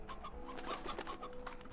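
Chickens in the Slime Rancher video game cluck softly in short, scattered calls, faint and close together over a quiet background hum.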